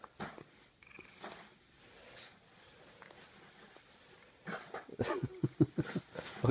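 A friendly cat in a shop purrs softly and steadily close by, a low continuous rumble, with some handling noise and brief louder rustling near the end.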